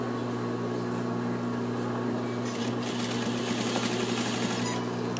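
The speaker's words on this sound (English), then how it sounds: "I'm going to edge stitch" A sewing machine runs steadily, edge stitching the lining to a jacket hem, its motor hum continuous and close for about five seconds with a brighter whirring rise partway through.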